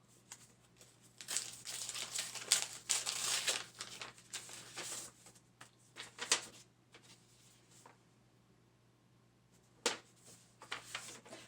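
Paper wrapping on a book package crinkles and rustles in several close bursts, with quiet pauses between handling sounds and a few sharp crackles near the end.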